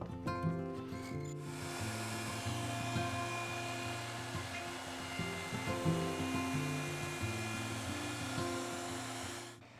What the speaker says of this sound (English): I removed the bulk of the material with the router